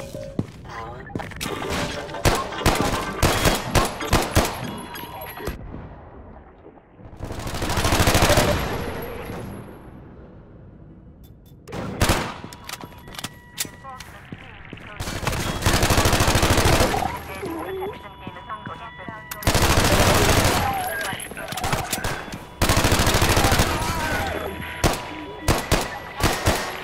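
Gunfire in the video game Half-Life 2: Raising the Bar Redux, repeated loud bursts of rapid shots separated by quieter gaps with impacts and thuds, occasional voices underneath.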